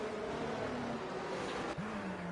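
A racing game's safety car engine hums steadily with a smooth drone that shifts pitch as it passes, moderately distant and fairly quiet.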